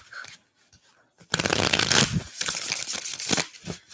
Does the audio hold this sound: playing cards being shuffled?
yes